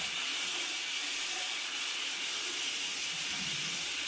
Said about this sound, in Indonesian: Aku mendengar suara keran yang menyala